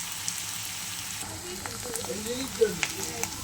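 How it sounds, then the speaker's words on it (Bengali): Fish roe frying in a pan gives a steady, faint crackling sizzle with occasional small pops, heard close with no talking. "আমার মাছের ডিম বেশ ভাজা হয়ে এসছে"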